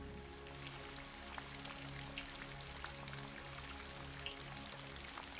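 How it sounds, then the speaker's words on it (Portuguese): Heavy rain falls on the leafy canopy of a Portuguese forest, a steady soft patter with scattered sharper drops striking leaves, heard as a constant, fairly faint wash with no one talking. "nas grandes chuvadas, em que as gotas de chuva batem nas folhas, reduzem a velocidade"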